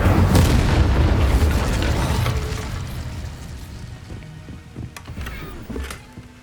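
Incendio fire spell cast in the Hogwarts Legacy video game, a loud booming burst that rolls into a fading rumble, followed by a few smaller pops and clicks.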